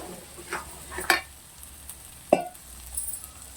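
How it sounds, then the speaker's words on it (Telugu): Chickpeas, tomato, turmeric and salt go into a hot pan for a spiced chickpea dish, with soft sizzling, stirring scrapes and a few sharp clinks of a utensil against the pan. "టమాటా వేస్తున్నాను. పసుపు వేసాను, ఉప్పు వేస్తున్నాను, శనగలు వేస్తున్నా"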